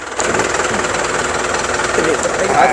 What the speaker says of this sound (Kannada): ಇವಾಗ ಗಾಡಿ ಸ್ಟಾರ್ಟ್ ಮಾಡಿ ಎಲ್ಲ ಚೆಕ್ ಮಾಡ್ತಾ ಇರೋದು